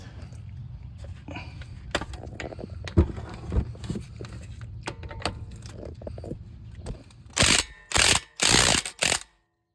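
A ratchet works loose a 17 mm brake caliper bolt on an Acura MDX, producing close, rapid metallic clicking in uneven strokes, ending in a few louder, longer ratcheting bursts.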